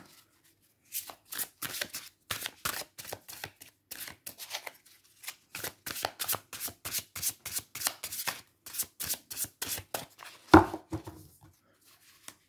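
Symbolon cards shuffled by hand for a card reading, a steady run of crisp riffling bursts with short pauses in between, close and alone, ending with one sharper slap as the deck is set down.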